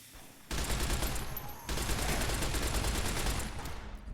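Machine gun fire in Fallout: New Vegas, with loud, rapid bursts of automatic shots that start abruptly after a brief quiet, continue in a dense stream and ease off near the end.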